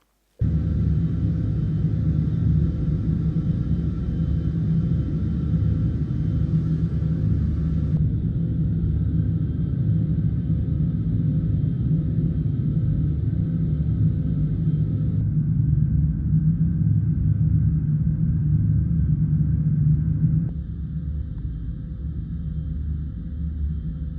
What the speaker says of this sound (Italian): la simulazione del rumore degli aerei, di un motore di aereo